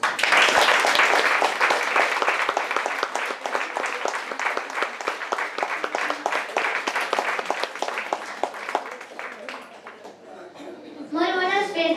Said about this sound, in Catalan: Un bon aplaudiment per tots i totes.